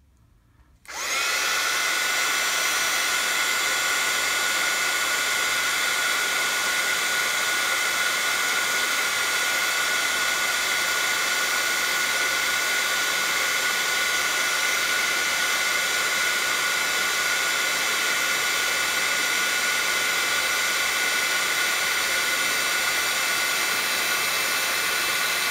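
A heat embossing tool blows hot air over stamped embossing powder during a Versamark craft technique, a steady loud whirring blast that starts abruptly after a second of quiet and runs unbroken to the end.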